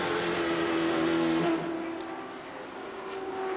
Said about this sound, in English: Tremendously noisy inside these race cars.